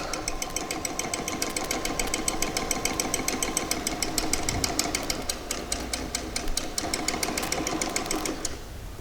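A sewing machine stitches around a pocket bag with a steady, fast mechanical clatter, close and continuous, before the motor stops near the end.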